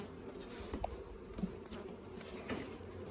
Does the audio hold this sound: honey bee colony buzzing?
yes